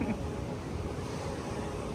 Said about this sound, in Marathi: समुद्र, या लाटा